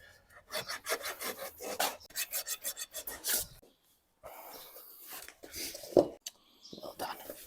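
A hoof rasp scoring a horse's hoof during barefoot trimming, with loud, close rhythmic rasping strokes, a pause, then more scraping and filing with a person talking over it.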